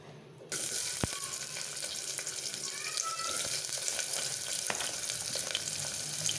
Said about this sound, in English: as soon as the oil is hot, I'll put in these onions.